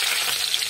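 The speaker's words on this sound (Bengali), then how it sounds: "মাছগুলো সব ভাজা হয়ে গেছে" Small fish frying in hot oil in a home kitchen, a steady close sizzling hiss with no talk.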